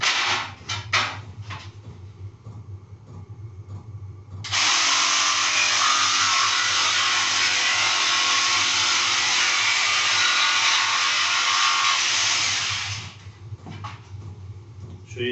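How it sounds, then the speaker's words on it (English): A jigsaw cuts sheet board such as OSB, MDF, ply or chipboard for a garage door: a loud, steady buzzing cut runs for about eight seconds, framed by short clattering handling noises before and after. "Trust your jigsaw again."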